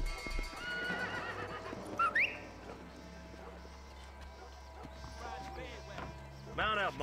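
In the video game Red Dead Redemption, a horse whinnies twice in short rising bursts over game ambience and a low rumble, with hooves clip-clopping faintly between the calls.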